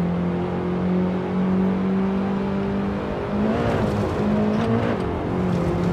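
A BMW E36 race car engine in a racing game roars at high revs, holding steady, then rising and falling through gear changes as other cars close in nearby.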